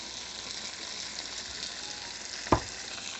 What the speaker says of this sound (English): put my onions in, just a little bit of oil, barely see it, and saute just for a few minutes